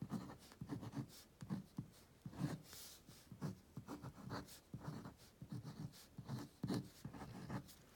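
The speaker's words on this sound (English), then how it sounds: "we are going to start off using my writing utensil" Pen writing on paper while a foldable on types of chemical bonds is made, a steady run of short scratchy strokes at close range, rhythmic and repeated, with no talk.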